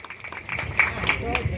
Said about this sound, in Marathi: जोरदार टाळ्या पुनश्च एकदा आपण वाजवले पाहिजे